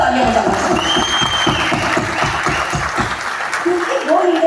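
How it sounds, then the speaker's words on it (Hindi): Applause from a large audience at a big motivational business event in India, a loud, continuous wash of clapping with a rhythmic, fast pulse, over which a voice speaks through the sound system. "मैं मेरे हर एक जीआरडीडी के लिए जोरदार तालियां बजाना चाहूंगी"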